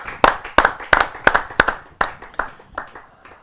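An audience at a Hindi kavi sammelan poetry gathering claps to welcome poet Rajesh Chetan, with about a dozen sharp, closely spaced claps that start strong and slowly fade in strength.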